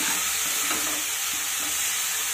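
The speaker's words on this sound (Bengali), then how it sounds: "2 মিনিট মতো নেড়ে চেড়ে শাকটাকে ভেজে নিচ্ছি।" Soft leafy greens stir-fried in a hot pan give a steady, close sizzle, with periodic stirring scrapes and shuffles rising through it, and no voices.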